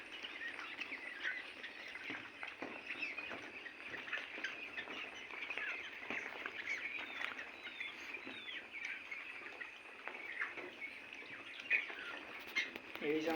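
Quail chicks in brooding on a quail farm give many faint, high, repeated chirps and peeps that overlap continuously, heard quietly against a low background hum.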